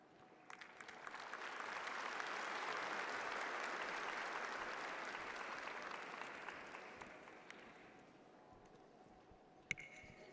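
A high school graduation crowd cheers and applauds, the clapping swelling to a sustained roar and then slowly fading out, heard from a distance in a large venue.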